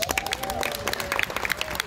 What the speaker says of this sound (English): can we please give a big round of applause once again for RNJ choreographer Martin Lawrence?